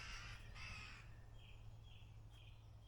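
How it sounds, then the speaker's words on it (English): A crow caws harshly twice in a woodland bordering a field, loud and close, followed by a few fainter, shorter calls over a steady low rumble of background noise. "Crow thinks so as well."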